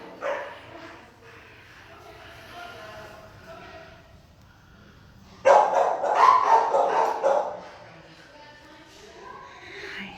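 Dogs at an adoption shelter bark and yip in a loud, echoing burst that breaks out midway and carries on, with a person talking over the quieter stretch before it.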